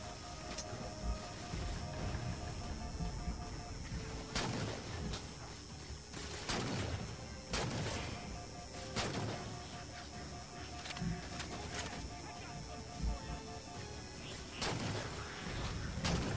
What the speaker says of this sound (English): Now let's go hit up that chain gun.